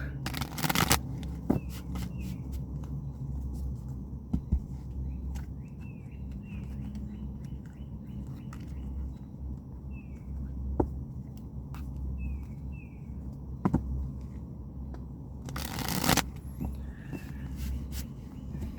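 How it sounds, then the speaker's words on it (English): Soft riffling and shuffling of tarot cards, close by, in a few bursts with quiet pauses between and faint background noise. "I like to try to shuffle on camera"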